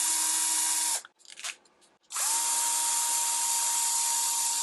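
A Bosch PS31 12V cordless drill runs at low speed with a steady, close motor whine. It cuts off after about a second, goes quiet for about a second, then spins back up and runs steadily again.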